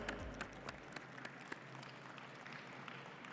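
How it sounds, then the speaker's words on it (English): Audience applause for a chief guest at a Haval H6 PHEV car launch event in Pakistan: fairly quiet, steady clapping from a crowd lasting the whole moment, with scattered sharper claps standing out. "Ladies and gentlemen, a round of applause for our chief guest."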